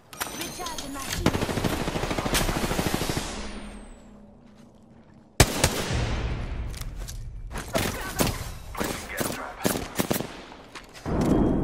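Dense bursts of automatic gunfire and heavy shots in the Apex Legends battle royale game, loud and close, with a brief lull before rapid exchanges of fire resume.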